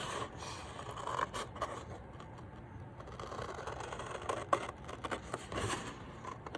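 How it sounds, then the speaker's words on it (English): Soft snipping and scraping of scissors cutting through paper, a steady series of small cuts close by, with no talking, cutting out a penguin shape. "I'm drawing with my scissors right now."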